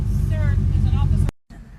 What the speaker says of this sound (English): All because my car is loud.